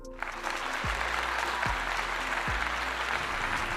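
Dense applause from an audience fills the whole stretch at steady loudness, with a few low thumps underneath and no clear voices.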